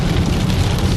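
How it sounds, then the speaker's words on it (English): Heavy storm rain pours steadily in a dense, constant wash of noise, loud and unbroken, with no voices over it. "It has been raining all night."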